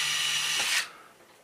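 A power drill bores a small pilot hole into a wall for a TV mount, a loud, steady whirring grind lasting under a second before winding down and fading.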